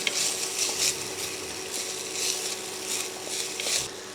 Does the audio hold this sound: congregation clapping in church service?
no